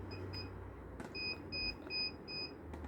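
A Bosch GLL 3X line laser level sounds its tilt alarm: a series of thin, steady electronic beeps in short, evenly spaced pulses, faint and clean over a low room hum, with no talking.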